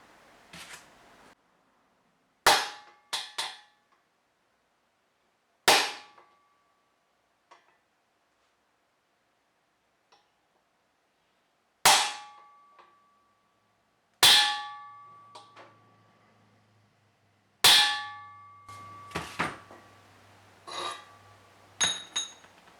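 Sharp metallic clangs ring out in sparse bursts, a hammer driving a bearing race on a Ford 8.8 axle several times with pauses between, the ringing growing brighter as the race bottoms out.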